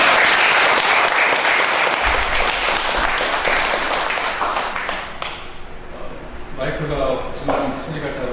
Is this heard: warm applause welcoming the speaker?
yes